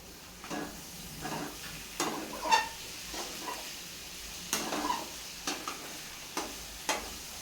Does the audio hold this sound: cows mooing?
no